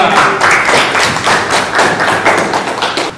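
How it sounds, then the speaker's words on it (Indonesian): Classmates in a university mathematics lesson applaud, a steady, dense patter of many hands clapping close by for the whole stretch with no break. "Tepuk tangan untuk kita semua"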